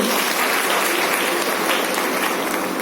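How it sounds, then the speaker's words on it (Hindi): A crowd claps loudly and steadily for a few seconds, with dense overlapping applause throughout and no speech. "मंच के लिए बहुत जोरदार ताली होनी चाहिए"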